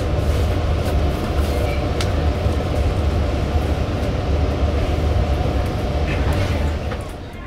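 Long Island Rail Road train just pulling out of Patchogue, heard from a seat on the upper level of the car: a steady, loud rumble and rattle of the rolling train throughout, with no talk.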